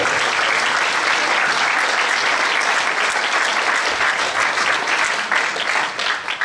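A crowd at a political rally in Beauvais applauds loudly and continuously, a thick wash of many hands clapping throughout with no speech over it.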